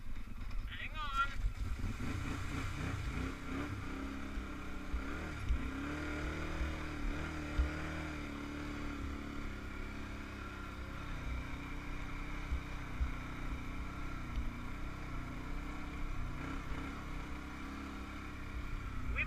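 An ATV engine drones steadily while riding a wooded trail, a loud, continuous motor rumble with bumps and small rev changes throughout, and a person talks over it now and then.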